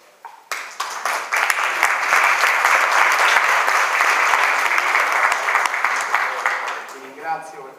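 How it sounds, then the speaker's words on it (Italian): An audience at a conference on the Castrum Novum excavation breaks into applause, a dense clapping that swells quickly, holds steady and loud for several seconds, then thins out as a voice begins speaking. "Ti ringrazio per questo applauso"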